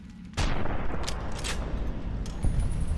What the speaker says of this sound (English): It's like a job for the anti-material rifle.